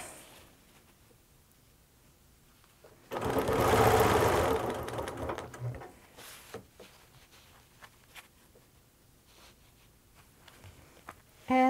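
Sewing machine stitching a straight line of quilting guided by a ruler, a steady close motor whir that starts abruptly and runs for a few seconds before stopping, followed by quieter handling noises.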